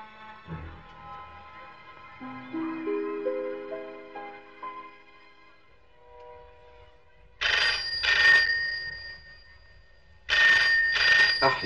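A telephone bell rings in two loud, buzzing bursts a few seconds apart, preceded by a quieter rising sequence of musical tones; no one speaks.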